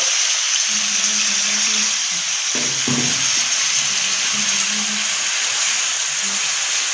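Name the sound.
tomatoes sizzling as they are added to hot oil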